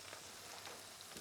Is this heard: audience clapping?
no